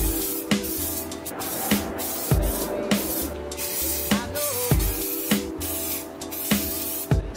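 Car grill being spray painted black with an aerosol can, a run of short hissing bursts with brief pauses between them, close up and steady, with no voices.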